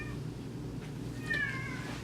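A house cat meows indoors, a short drawn-out cry near the end over a low steady room hum, fairly faint and heard alone with no talk.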